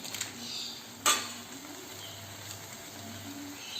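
Chili powder goes onto chicken in a hot pan on high flame, giving a faint, steady sizzle with a sharp metallic clink of a utensil against the pan partway through and soft stirring scrapes.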